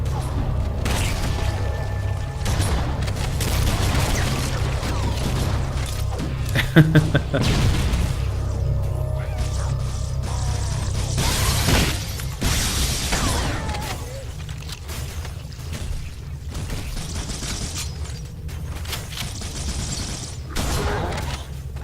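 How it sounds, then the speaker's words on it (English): Gunfire and explosions from the video game Halo CE, on the Keyes level, including close-range shotgun blasts: repeated booms and bursts over steady low combat rumble, with occasional speech. "Those shotguns are good up close."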